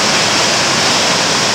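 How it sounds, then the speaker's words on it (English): Water gushes up from a mine borehole that reaches down to the Clark vein, a loud, steady, close roar of rushing water that fills the whole moment without pause or voices. "We have water coming up from a borehole going all the way down to the Clark vein."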